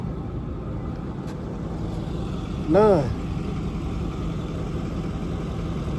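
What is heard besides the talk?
diesel truck engine idling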